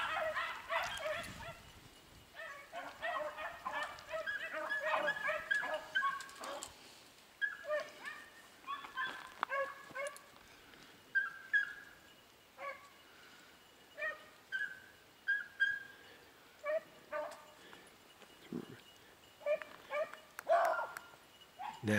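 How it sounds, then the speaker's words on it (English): A beagle barks faintly in the distance in scattered short bursts, with quiet outdoor background between them. "Hear that bark just then?"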